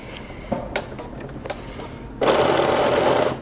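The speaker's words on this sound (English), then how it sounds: "And now I am sewing down to where I started, or where the other side is" Sewing machine stitching a neckline seam on a Simplicity 8912 garment. Faint clicks and handling come first, then the motor starts abruptly into a loud, steady, close whir that runs to the end.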